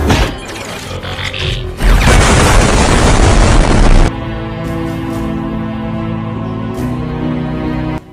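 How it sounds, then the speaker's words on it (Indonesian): A loud film explosion as the robot Blitzwing is blown to pieces in a Bumblebee fight scene: a sharp boom bursts into about two seconds of dense roaring blast, then fades into a lower ringing, rumbling tail. "B127 meningkatkan serangan hingga membuat Blitzwing meledak hancur berkeping-keping"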